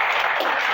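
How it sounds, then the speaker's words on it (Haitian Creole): Audience applause from a crowd at a public event comes as a brief, dense burst of clapping that sounds steady and fairly loud. "Sous vos applaudissements, s'il vous plaît. On applaudit."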